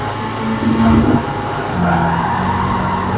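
A GT300 race car slides sideways through a curve, its engine droning loud and steady with a brief tire squeal rising early, then the drone carrying on unbroken to the end.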